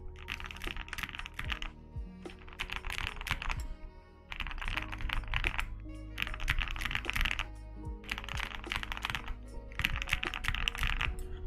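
Rapid clacky keystrokes on a mechanical keyboard in several bursts, with brief pauses between, close and fairly quiet.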